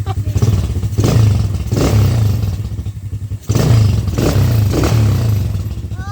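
A motorcycle engine revs repeatedly in close bursts, rising and dropping in a steady rhythm with clattering mechanical noise, loud and up close.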